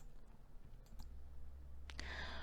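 A few sharp mouse clicks while working through cost-accounting entries in accounting software, quiet and close, with a low steady hum beneath and no talking.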